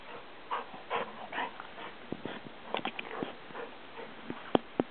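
A puppy whimpers and yips softly, with small squeaky cries and light pattering scattered through a few seconds of quiet.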